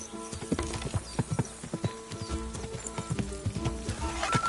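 Horse hooves clip-clop steadily in Kingdom Come Deliverance 2, a brisk, regular run of sharp close hoofbeats with faint tack and mechanical rattles underneath and a brief hint of whinnying.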